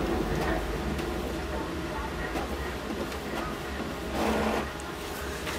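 A colour photocopier-printer running a colour copy gives off a steady mechanical whir and low rumble, with a slightly louder churning burst near the end.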